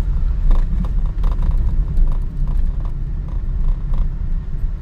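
Cars passing on the Mumbai–Goa highway in rain: a loud, continuous low road rumble with tyre hiss and swells as vehicles go by.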